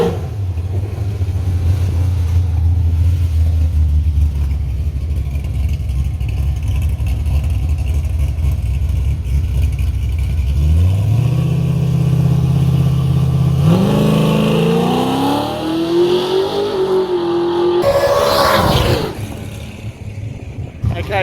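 A drag racing car makes a solo run at a no-prep event, its engine loud and droning, then rising sharply in pitch as it accelerates away, with a crowd and announcer-style talk underneath.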